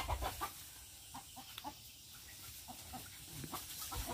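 Chickens clucking and squawking in a large garden as they are chased, with a flurry of short, close calls and rustling throughout.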